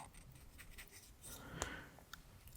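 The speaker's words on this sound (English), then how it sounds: "let's explore the sounds of my notebook, of the pencil" A pencil scratches across notebook paper in short strokes, close and quiet, with light tapping marks between the scribbles.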